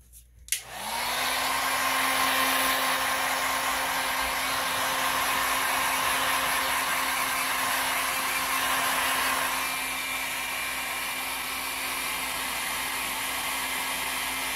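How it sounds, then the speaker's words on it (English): A heat gun blows hot air over alcohol inks on a tumbler, switching on with a click and then roaring as a loud steady whine and rush that eases slightly toward the end. "Heat gun."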